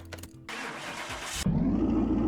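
A junkyard Camaro's engine cranks briefly, catches and settles straight into a loud, close, steady idle rumble, with no voices.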